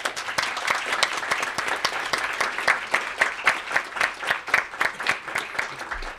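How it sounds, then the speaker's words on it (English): Audience at a National Press Club panel on repression of expression in the Mideast gives steady applause, with sharp claps overlapping at an even pace for about six seconds at moderate distance, no talk over it. "Let's give them a round of applause."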